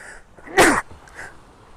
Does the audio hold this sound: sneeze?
yes